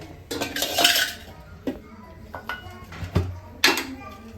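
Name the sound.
bowl pressing hot mandvi pak mixture flat in a greased pan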